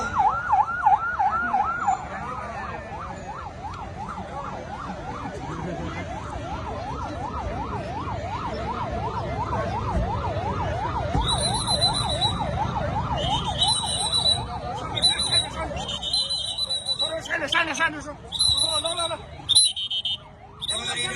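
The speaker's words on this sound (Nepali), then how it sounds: "दर्शक महानुभावहरू देख्न सक्नुहुन्छ प्रहरीको गाडी घटनास्थलतर्फ आइरहेको छ।" A police car siren wails, rising and falling repeatedly for several seconds as it approaches an accident scene, then fades as traffic noise and sharp higher tones take over near the end.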